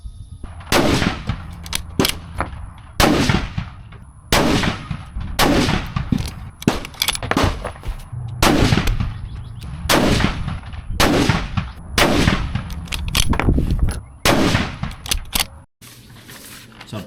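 Rifle shots from a Sig Cross chambered in 6.5 Creedmoor firing 140-grain ELD-M handloads with Hodgdon H4350 at an outdoor range, a steady series of loud, sharp reports spaced a second or two apart with a ringing tail after each.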